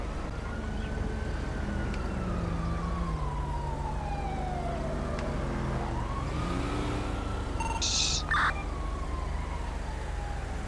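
An ambulance siren from a roleplay video game set in southern England wails in long rising and falling sweeps over a steady engine-like drone, with a brief brighter electronic burst near the end.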